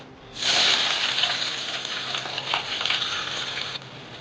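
Onions hit hot oil in a kadai with an abrupt loud sizzle that settles into a steady, close crackling hiss of frying.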